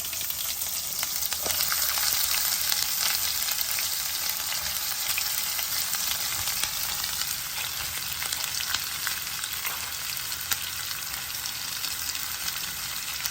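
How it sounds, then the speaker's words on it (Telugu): Mustard seeds and cumin crackle and sizzle steadily in hot coconut oil for a beerakaya pesara pappu curry, a dense, close frying hiss with scattered sharp pops throughout, no voices. "ఆవాలు మంచిగా చిట్పట్ మంటున్నాయి కదా ఇప్పుడు జీలకర్ర మంచి కొబ్బరి నూనె వాసన వస్తుందండి"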